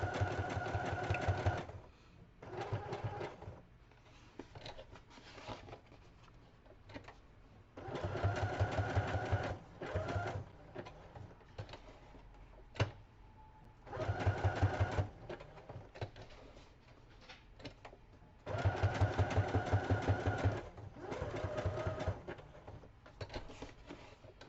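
A sewing machine stitching scrapbook pages in several bursts of rapid mechanical whirring, each lasting a few seconds with quiet pauses between, heard close and fairly soft.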